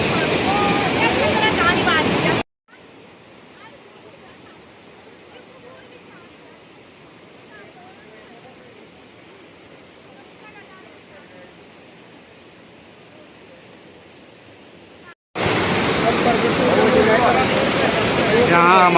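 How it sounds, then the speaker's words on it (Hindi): Flood water rushes down a river through a village hit by heavy rain, a loud broad roar at the start and end with a much quieter stretch in between. "आप देख रहे हैं ऊपर साइड में पानी का बहाव"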